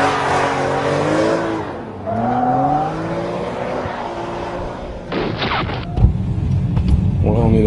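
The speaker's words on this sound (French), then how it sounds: "faire glisser une voiture le plus souvent possible sur une portion de circuit" A BMW M3 drifts on a race circuit, its engine droning and rising in pitch through sustained slides, with louder bursts and tire noise near the end, while people talk over the engine.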